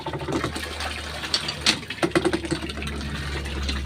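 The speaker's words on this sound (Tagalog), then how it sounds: "Ang bomba ng tubig." A water pump fills a container for hand laundry, splashing and gushing in uneven bursts over a low motor hum, close and moderately loud.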